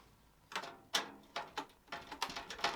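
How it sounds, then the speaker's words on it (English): A screwdriver ratchets screws out of an NZXT H510 Flow PC case, a close series of sharp clicking bursts, sparse at first and then quicker and more regular. "Let me just grab my screwdriver."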